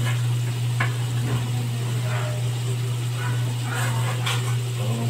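Liver fries in a pan for dinaldaleman, giving a continuous sizzling hiss over a steady low electrical hum, with a few faint clinks of stirring.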